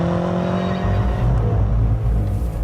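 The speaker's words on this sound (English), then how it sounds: "they've fitted it with a system that pipes a synthesized version of the exhaust note" A BMW M5 with a seven-speed double-clutch gearbox, its synthesized exhaust note piped through the cabin stereo: a steady, loud low engine drone that deepens and swells partway through, with no talking.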